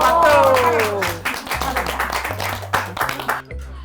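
Grandmothers clap and cheer together in a short burst of lively applause, mixed with shouting and chatter.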